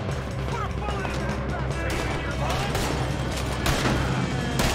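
Gunfire in the Red Dead Redemption video game: dense, overlapping shots and booms in a busy firefight, with talking running throughout.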